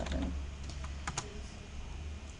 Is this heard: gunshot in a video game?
no